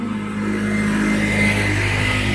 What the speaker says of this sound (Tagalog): Kasi marami dumadaan ng sasakyan.